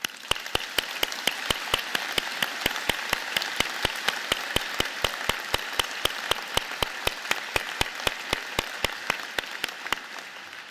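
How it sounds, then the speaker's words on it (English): An audience at a fall graduation convocation for applied science, engineering and architecture applauds vigorously: a dense, sustained wash of clapping lasting over ten seconds, with a steady sharp periodic ticking running through it. "join me in the platform party in thanking them with a vigorous round of applause."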